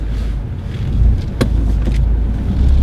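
A car driving along on a road test at a crossroads, steady low engine and road rumble running throughout at close range, with one sharp brief click partway through.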